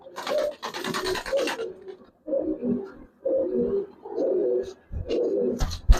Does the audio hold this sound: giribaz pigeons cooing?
yes